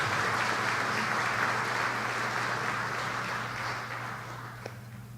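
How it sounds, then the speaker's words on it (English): Applause from an audience at a live civic State of the City and County address honoring the sponsors, a steady broad wash of clapping that slowly fades, with no talk over it. "round of applause for all of our sponsors and what they do for us"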